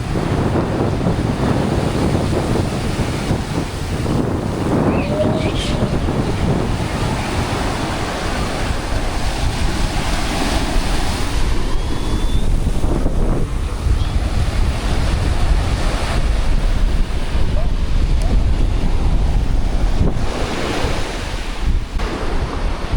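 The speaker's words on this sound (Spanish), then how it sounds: "Y las olas están buenas, no están muy grandes." Moderate Caribbean Sea waves wash steadily onto a beach at Playa del Carmen, Mexico, a continuous loud surf roar with wind gusting across the microphone and no talking.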